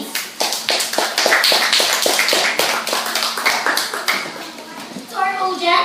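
A classroom audience at a school debate claps in a quick, dense burst of applause close by, which thins out toward the end as a voice begins to speak.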